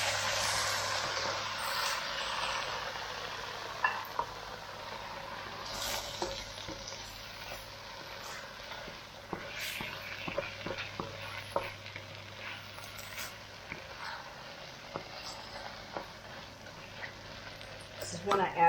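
Tomato sauce being stirred into Spanish rice in a pan, a steady soft sizzle and scraping with scattered light clinks and stirring strokes, a low hum underneath throughout.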